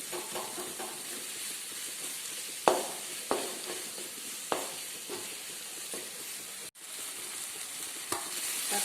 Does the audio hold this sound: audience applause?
no